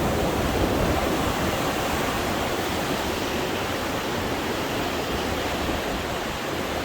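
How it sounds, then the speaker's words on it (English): Steady, dense rushing water of the Animas River fills the scene, a constant broadband roar of a river flowing close by, with no voices. "This is the Animas River."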